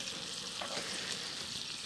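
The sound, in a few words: steak sizzling in a frying pan over a campfire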